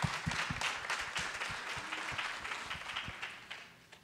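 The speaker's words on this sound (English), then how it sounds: "Why don't you give yourselves a round of applause?" Community members at a college lecture applaud themselves, a moderately distant patter of many hands clapping with some sharp individual claps, tapering off over about four seconds.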